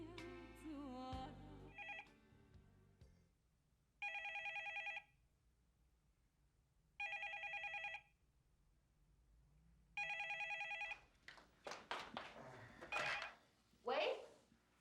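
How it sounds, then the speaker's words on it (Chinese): An old-style telephone bell rings in three separate loud bursts, evenly spaced with quiet gaps between them, and clattering dishes or household noise follows right after. "哎呦，电话啦！"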